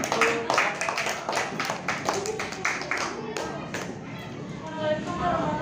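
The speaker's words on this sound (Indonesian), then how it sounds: "tepuk tangan untuk kelompok Cemara" Elementary school pupils in a Baubau classroom clap for a student group, a brisk, uneven patter of hand claps mixed with chatter and voices throughout.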